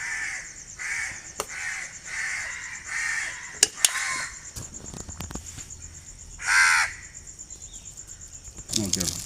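Crows caw repeatedly outdoors in a steady series of harsh calls, with a constant high insect whine in the background and occasional sharp knocks.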